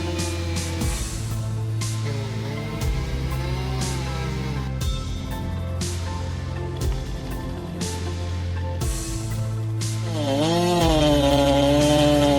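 A big chainsaw cuts through a tree during forest clearing, its powerful engine roaring loud and steady at close range for the whole stretch, rising in pitch and intensity near the end.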